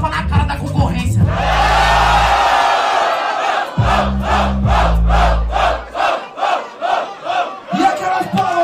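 Crowd at a Brazilian freestyle rap battle erupts in loud shouting and cheering between verses, two big roaring swells followed by rhythmic chanting bursts, close and intense.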